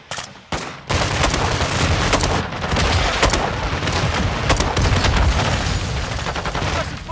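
Dense, loud gunfire from the video game Call of Duty Modern Warfare 2 (2022), with rapid automatic bursts and heavy booms overlapping continuously in a chaotic firefight.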